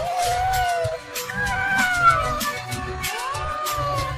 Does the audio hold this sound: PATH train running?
no